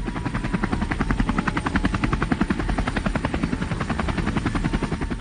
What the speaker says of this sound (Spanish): Los helicópteros de Air America llegaban al pueblo